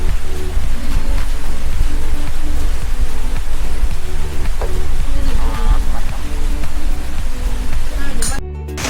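Steady rain pours down outdoors in a loud, dense, continuous hiss that fills the whole stretch before dropping off sharply at the very end.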